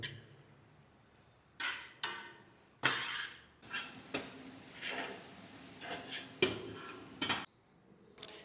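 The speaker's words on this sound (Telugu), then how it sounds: "ఇప్పుడు కలుపుకోవాలి చిన్నగా" A metal spoon clatters and scrapes against a pot while gongura leaves are mixed in, producing several separate bursts of clinking and scraping with quiet gaps between them, close by.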